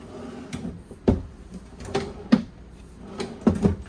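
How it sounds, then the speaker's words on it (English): A pull-out drawer in a Palomino SolAire 3060RKTS travel trailer slides and knocks shut several times, a series of short wooden thumps and scrapes close by with quiet pauses between. "2 more of the same size pull-out drawers here."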